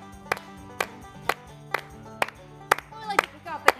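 Hand claps, about ten sharp separate claps at a steady, slightly quickening beat over a music bed, fairly close and clear.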